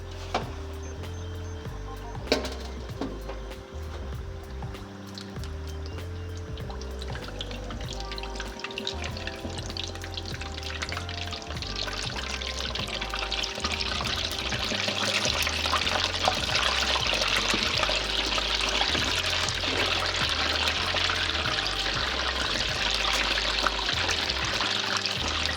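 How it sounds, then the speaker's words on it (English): Korean fried chicken sizzles and bubbles hard in hot oil during its second fry, a steady loud hiss that continues without a break and builds slightly toward the end, heard up close with no voices. "It's time for our second fry of our first batch"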